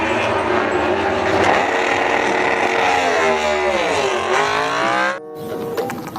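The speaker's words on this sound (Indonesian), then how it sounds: "Ini motor balap GP." A GP racing motorbike engine revs loudly and continuously, its pitch sagging and then climbing again before cutting off abruptly, with a brief rattle afterward.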